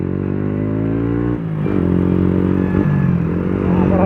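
A motorcycle with an Akrapovic aftermarket exhaust rumbles deep and bassy, loudly and continuously, shifting pitch as the rider rolls on the throttle, with no voices.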